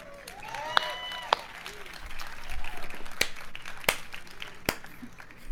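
Lukewarm applause from the audience at Bethesda's E3 2018 press conference: a thin, scattered patter of clapping with a few sharper claps standing out, swelling slightly in the middle and continuing under faint background voices.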